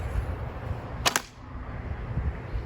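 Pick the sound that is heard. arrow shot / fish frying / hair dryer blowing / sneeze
arrow shot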